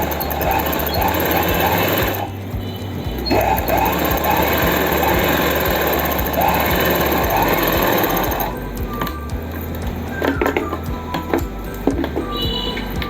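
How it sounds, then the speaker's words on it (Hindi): A sewing machine runs a double line of stitching along a seam on plazo pants, a close, loud, continuous mechanical whir with brief changes in pace and no talk over it. "और सिलाई डबल कर लेंगे इसके दोबारा।"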